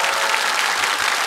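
A studio audience at a KBS family game show claps in a brief, dense, even burst of applause, loud and close.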